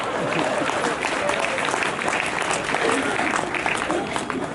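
Applause from the audience at a comedy show in Jagdalpur, a steady, roomy wash of many hands clapping that continues without a break, with crowd voices and some talk blended in.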